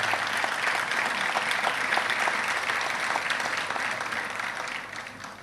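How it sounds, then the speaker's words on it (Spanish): A crowd gives a strong round of applause during a government chief of cabinet's speech at the opening of an epidemiological surveillance laboratory, dense continuous clapping that holds steady and tapers slightly at the end. "Yo a ese padre de este compañero, colega, le dedicaría, por su ejemplo, un fuerte aplauso."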